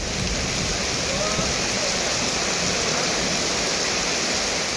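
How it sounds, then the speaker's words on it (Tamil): Heavy rain driven by gusty wind over villages in Tamil Nadu, heard as a dense, steady roar of downpour that stays loud and unbroken throughout. "சூறைக்காற்றுடன் மழை பொழிந்தது"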